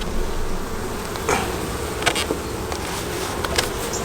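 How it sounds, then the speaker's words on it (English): Honeybees buzz inside an opened white-painted hive, a dense, steady swarm drone close by with a few louder passes of individual bees. "there's quite a few bees up here"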